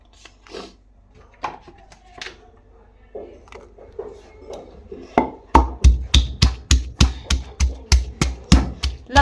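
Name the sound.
crushing garlic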